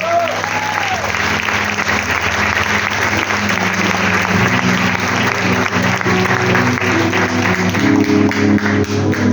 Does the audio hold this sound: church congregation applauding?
yes